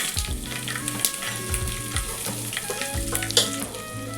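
Curry leaves, dried red chillies and cumin sputter and sizzle in hot oil for a drumstick-leaf dal tempering, a steady close crackle with a few sharper pops and light stirring, no voices.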